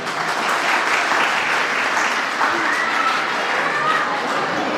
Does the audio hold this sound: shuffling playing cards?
no